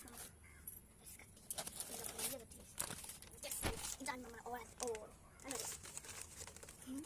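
Packaging for a selfie stick crinkles and rustles in sharp bursts during unboxing, while people talk throughout and a pigeon coos in the background.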